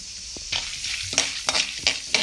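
Mustard seeds and chana dal fry in hot oil in a pan for Karnataka-style capsicum gravy, a soft continuous sizzle broken by about six sharp scraping stirs of a spoon at close range.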